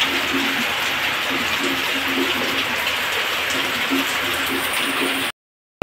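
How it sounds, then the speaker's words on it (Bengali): Heavy rain pours down hard in a continuous, dense, loud roar of drops and running water that stops abruptly near the end. "প্রচন্ড জোরে বৃষ্টি হচ্ছে"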